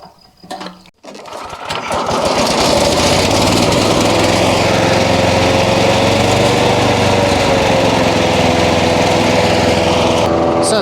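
A petrol wood chipper on a farm in Portugal starts after a few clunks and runs at a loud, steady high-pitched drone, close by and unbroken for the rest of the clip.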